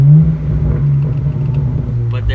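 A BMW E90 335i with a muffler delete rumbles loud and close with a deep low exhaust drone, a rev swell and a few crackling pops near the end.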